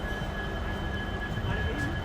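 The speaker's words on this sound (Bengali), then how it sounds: "चलिए, गाड़ी खुल रहा है रेल की तरफ से" Sealdah–Banaras Amrit Bharat train beginning to move, a low steady rumble of carriages with a faint thin whine above it, heard close and alone over two seconds.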